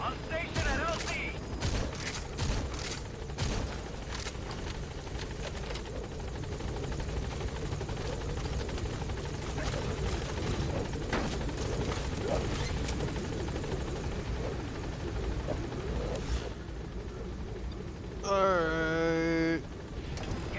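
A helicopter in Metal Gear Solid V holds at a landing zone, its rotor drone loud and steady throughout, with sharp bursts of gunfire cracking over it.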